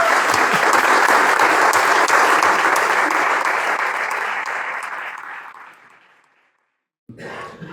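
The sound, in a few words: applause for Jorge at a book presentation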